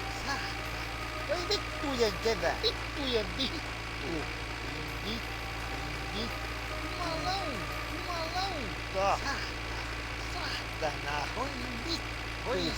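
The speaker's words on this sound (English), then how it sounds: "We've got the tractor noise" A tractor engine in the My Winter Car game idles in a steady, low drone that runs beneath continuous talking for the whole stretch.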